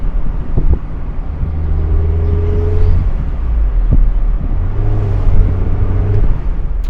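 A Mazda MX-5 roadster drives steadily along a new road, a continuous low engine rumble and tyre roar with occasional bumps and thuds from its stiff suspension, heard from inside the vehicle.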